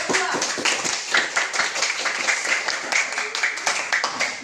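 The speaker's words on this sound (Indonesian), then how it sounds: "Ayo kita berikan dulu tepuk tangan untuk kelompok 2." A classroom of primary pupils clapping for a student group after their presentation, a lively, dense patter of many hands at close range, fairly loud and continuous.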